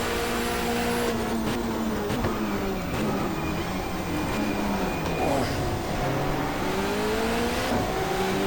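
Touring car engines in the GTR2 racing game, a steady loud drone as revs fall and climb through downshifts under braking, with other cars whining alongside.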